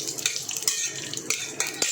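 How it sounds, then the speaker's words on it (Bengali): Dried red chillies fry in hot mustard oil in a kadai while a metal spoon clinks and scrapes against the pan in quick bursts over a faint sizzle. There is no speech. "সর্ষের তেল অল্প গরম করলাম, তার মধ্যে শুকনো লঙ্কা আগে দিলাম"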